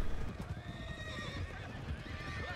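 Horse hooves clip-clop steadily during a ride in Red Dead Redemption 2, with a whinny and busy game ambience layered over the rhythmic gallop.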